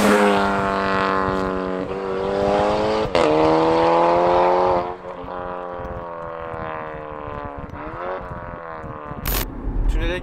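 A SEAT Ibiza Cupra, Stage 2 tuned to 230 hp with a custom 70 mm downpipe exhaust and no muffler, idles and revs with a raw drone, pitch climbing and dropping over throttle blips, ending with a sharp pop.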